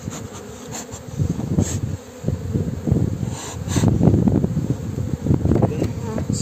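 Honey bees buzz around an opened hive frame during a spring inspection, a dense, fluctuating hum swelling and fading close by, with occasional light handling noises.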